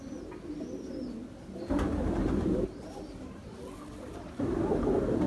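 Pigeons coo softly at close range in a few rounded, repeated bursts over a low background hum.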